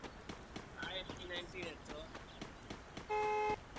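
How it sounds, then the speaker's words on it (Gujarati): A car horn honks in the Free Fire Max battle royale game, a steady sustained blast of about half a second standing out near the end over footsteps, game effects and other background sounds. "એ કોકે હોરન માર્યો આ ક્યાંથી માર્યો"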